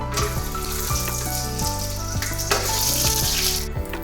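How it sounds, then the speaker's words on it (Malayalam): Cashews and raisins crackle and sizzle in hot ghee, with frequent sharp pops over a steady frying hiss and a faint tonal hum beneath. "ആ നെയ്യിലേക്ക് അണ്ടിപ്പരിപ്പ് മുന്തിരി ഇട്ട് ഒന്ന് വറുത്തെടുക്കാം"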